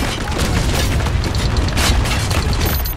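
Mortar shell explosions in the war shooter Spec Ops The Line: loud, continuous booming blasts and rumbling detonations filling the whole stretch, with battle noise layered throughout and no clear speech.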